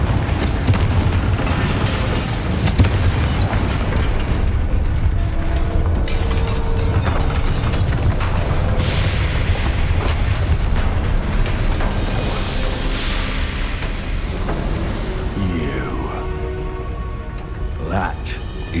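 A Confringo spell goes off in Hogwarts Legacy with a heavy fiery boom and a long crackling, rumbling blast of debris. Game music and voices play underneath, and shimmering magical tones come in near the end.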